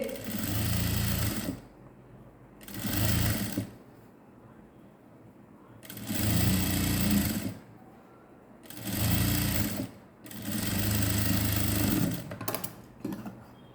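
A sewing machine stitches a skirt made from an old silk saree, running in five distinct bursts of a few seconds each with short pauses between, loud and close with nothing else over it.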